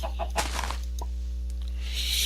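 Chickens in the Minecraft video game cluck a few times in a brief burst, close and clear over a constant low hum, followed by a softer rustling noise, with no talk.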